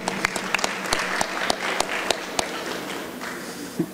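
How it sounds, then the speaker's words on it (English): Applause at a San Francisco City Hall press conference, a small crowd clapping with sharp, distinct claps that thin out and fade toward the end. "A round of applause for Michelle."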